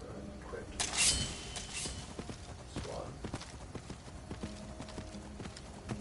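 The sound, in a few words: horse hooves clip-clop in Skyrim video game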